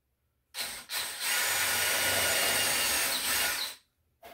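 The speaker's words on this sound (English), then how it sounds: "drill a pilot hole" A power drill runs steadily for about three seconds, starting with a couple of short bursts and then grinding loudly and continuously through material.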